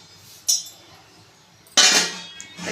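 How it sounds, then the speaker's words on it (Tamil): Two metallic clinks of a lid set onto a pot of wheat rava upma, the second louder and ringing briefly, with quiet kitchen background between. "மூடி போட்டு மூடிக்குவோம்"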